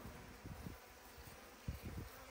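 Honeybees buzzing at an opened beehive during autumn hive inspections, a continuous faint droning hum with a few slightly louder swells close by, no talk.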